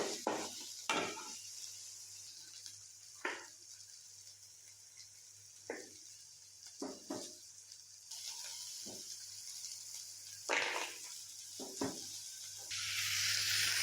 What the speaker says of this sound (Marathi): आपण आता याच्यात कांदा टाकून घेऊ आणि हा चांगला परतून घ्यायचा आहे कांदा लालसर होईपर्यंत